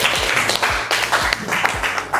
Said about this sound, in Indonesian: Oke, tepuk tangan juga.